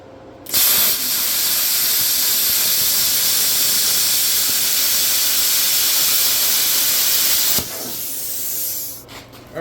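A Bestarc BTC500DP pilot-arc plasma cutter slices through 1/8-inch stainless steel with a loud, steady broadband hiss that lasts about seven seconds, then cuts off abruptly, followed by a few brief softer bursts.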